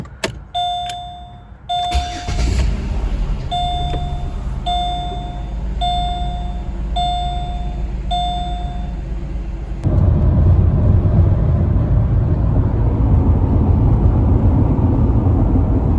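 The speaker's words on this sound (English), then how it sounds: "Time for a test drive. Time to go on a test drive." 2007 Chevrolet Malibu Maxx with a new radiator, thermostat and coolant: a repeated electronic chime sounds inside the car, then a louder steady rumble of engine and road noise takes over as it drives.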